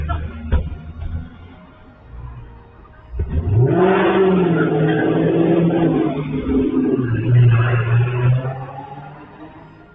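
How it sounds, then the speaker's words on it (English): Getaway cars peeling out and speeding away from a store, with loud engines revving and accelerating in a sustained roar that swells and stays close, with voices faintly underneath. "hopping back in their rides and peeling out of there"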